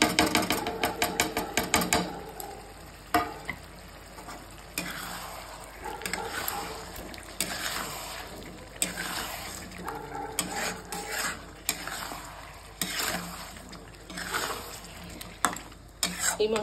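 Mutton with coriander and cumin powder masala being stirred and fried in a pot, with rapid metal scraping at first and then intermittent spoon knocks over a low sizzle.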